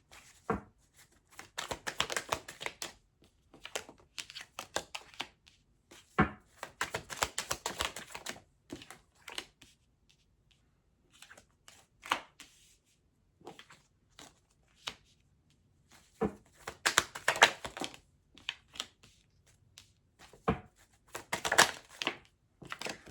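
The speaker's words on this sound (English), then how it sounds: "if you don't care about seeing the cards come out, you're welcome to skip ahead" Tarot cards are drawn and slid out of a deck, giving close, crisp papery rustles and flicks in irregular bursts separated by quiet pauses.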